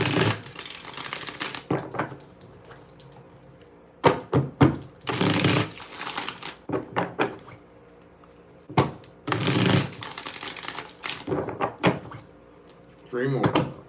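Tarot cards are shuffled by hand in several distinct bursts of riffling and rustling, close and fairly loud, separated by quieter pauses.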